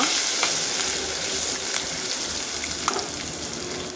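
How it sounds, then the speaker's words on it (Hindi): Asafoetida dropped into hot oil and stirred for a Goan potato bhaji, producing a steady, loud sizzle with faint scraping from the stirring. "पाव चमचो हांवें हिंग घेतला, तो घालता। चाळो मारता।"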